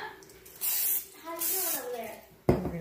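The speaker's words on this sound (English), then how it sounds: "and then I'm going to spray a little bit more." Cooking spray hisses onto a waffle maker in two steady bursts of about half a second each, close and fairly loud, with a person speaking around them.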